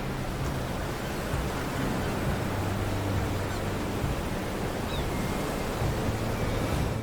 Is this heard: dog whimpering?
no